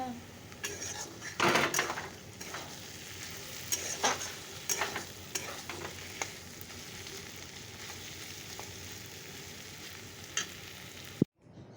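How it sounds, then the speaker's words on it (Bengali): Leafy greens are stir-fried in a pan at home, a soft steady sizzle broken by scraping and clanking strokes of a spatula against the pan, fairly quiet and close. "হয়ে গেছে শাক ভাজা"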